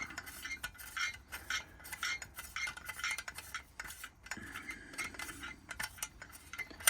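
A Joseph Cooke of Birmingham miner's lamp is unscrewed, giving soft close metallic scraping and grinding in short irregular turns, quiet with no talk.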